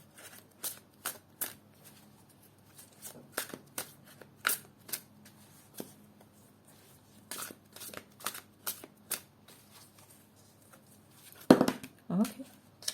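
Tarot cards being shuffled in repeated short riffling bursts, close and moderately loud, with brief pauses between bursts and a couple of louder handling sounds near the end.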